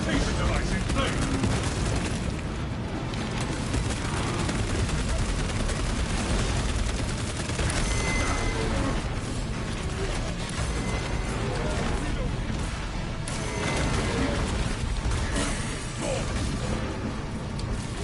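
Space Marine 2 video game combat, with dense, continuous gunfire and booming blasts from a frag grenade amid the chaos, loud throughout, as voices talk over the fighting.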